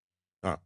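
A single short, sharp sneeze bursts out of near silence, close and brief.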